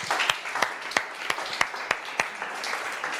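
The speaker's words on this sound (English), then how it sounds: "let's give a round of applause." Audience applause at a tech conference after a stage talk, a continuous spread of many hands clapping with several sharper claps standing out, moderately distant and steady.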